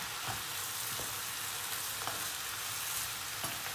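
Food sizzles softly but steadily in a pan, with a few spoon scrapes and taps as it is stirred close by.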